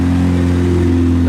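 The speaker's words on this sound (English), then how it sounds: "This was loud driving past." Loud modified car driving past at a car meet, a deep, steady engine drone with strong low harmonics, close and loud throughout the short moment.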